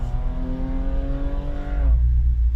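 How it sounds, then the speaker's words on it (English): Porsche driving fast down a road, a steady engine tone with harmonics holding for about two seconds before dropping away into low road rumble as it passes close by. "That wasn't 30 miles an hour by the Porsche that was going down the road."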